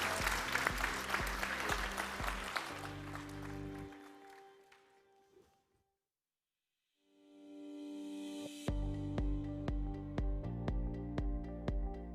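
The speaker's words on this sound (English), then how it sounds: "Round of applause, everybody, for this amazing panel." Audience applause for a panel discussion at a blockchain and AI conference summit in Malta fills the opening seconds over rhythmic music, fades into a short silence, then the music returns.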